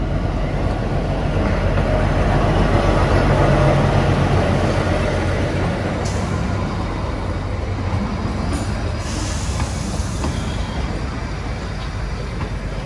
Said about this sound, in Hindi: ट्रेन आ गई है, टॉय ट्रेन